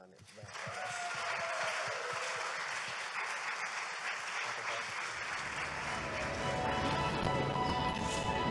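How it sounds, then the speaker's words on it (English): A round of applause for the final team at a Design for Government final show: dense, sustained clapping from a crowd, starting abruptly and holding steady for several seconds, with faint voices underneath. "great round of applause for our last but not least team"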